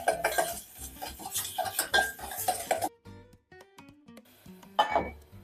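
A spoon clinks and scrapes against a pot while tomato paste is sautéed in a little oil for a vegetable chicken bulgur pilaf, sounding as irregular metallic knocks and stirring strokes, loud at first and then sparser and quieter.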